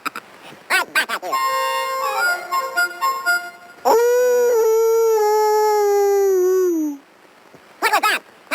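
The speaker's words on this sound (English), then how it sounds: "That was the wolf at your door." A cartoon wolf howls at the door in a 1990s Woody Woodpecker episode, one long loud drawn-out howl that slides downward and fades, framed by short bursts of cartoon voices and noise before and after.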